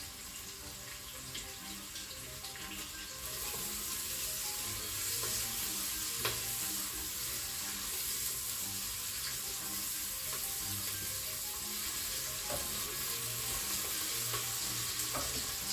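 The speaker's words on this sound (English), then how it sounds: "We want to give the onions a minute or so to cook before we add the next ingredients." Onions cook in a pot, a soft, steady sizzling hiss that continues throughout at moderate distance, with a few faint taps and no speech.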